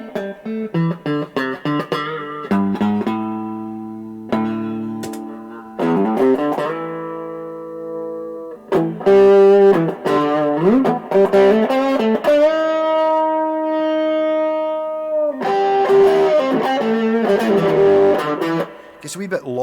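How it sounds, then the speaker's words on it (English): Electric guitar played through a Washburn SX3 practice amp with distortion: loud chords and sustained notes with a gritty, buzzy edge, alternating with quick picked phrases and brief gaps. "it's got a little bit of that sort of horrible distortion you get in practice amps"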